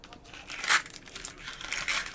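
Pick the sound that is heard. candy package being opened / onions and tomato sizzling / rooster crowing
candy package being opened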